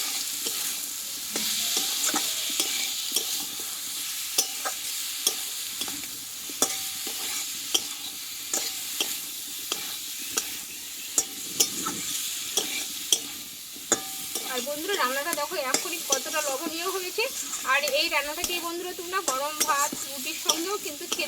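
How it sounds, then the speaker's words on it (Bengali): Taro and potato pieces fry in spiced oil, a loud continuous sizzle broken by close scraping and clinking as a spoon stirs them around the pan throughout. "আলু কিছুক্ষণ মতো আমি একটু নাড়াচাড়া করে নেবো"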